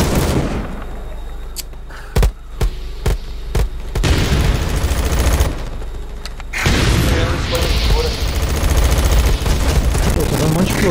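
Gunshots and blasts from a STALKER game firefight: a run of sharp, loud reports in the first few seconds, then a dense roar of continuous explosions and gunfire filling the rest, with people talking over it.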